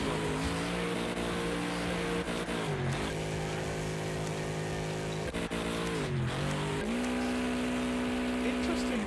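Several race car engines in the Wreckfest video game rev loudly at once as a pack, their pitches rising and dipping together in sweeping gear changes, a continuous close roar with tournament commentary over it.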